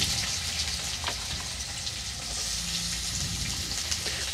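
Pumpkin pieces fry in a pan of hot oil with black cumin seeds and dried chilli, giving a steady, even sizzle that goes on without a break and has no talking over it.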